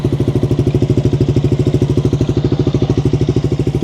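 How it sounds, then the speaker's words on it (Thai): A Honda ADV350 motor scooter idles close by with a steady, rapid putter from the exhaust, even and unbroken. "มาฟังเสียงท่อกันหน่อยดีกว่านะครับ"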